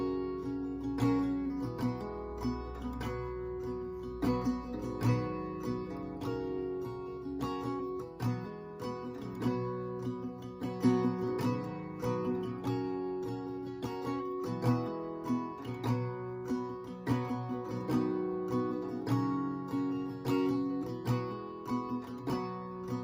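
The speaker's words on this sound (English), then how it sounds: "So just to play this verse in its entirety for you, it would sound like this." Acoustic guitar strumming the chords of a verse with accented strokes, a steady rhythmic pattern of chord hits played alone, close and clear, and no voice.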